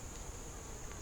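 Bees droning steadily at a hive on a cloudy, humid October day, a dense continuous buzz heard up close with no voices.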